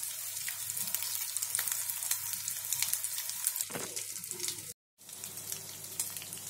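Veg cutlets sizzle loudly in hot oil in a pan, a steady crackling fry with a brief scrape as they are flipped, a short silent gap, then the frying resumes.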